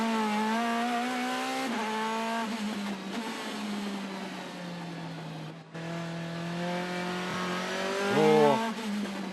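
Onboard engine of a race car driven by Gary Paffett around a twisty, low-grip circuit, droning loud and steady with rising and falling revs, a brief dip near the middle and a sharp rev flare toward the end.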